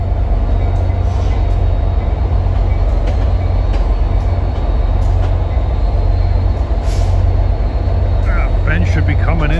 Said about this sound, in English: here comes train X04 from Middletown